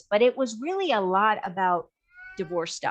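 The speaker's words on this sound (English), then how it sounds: "if you hear a baby crying, no, it's not a baby, it's my cat." A pet cat cries in long, wavering, baby-like meows, close and loud, while someone talks at the same time, then a shorter rising meow after a brief pause.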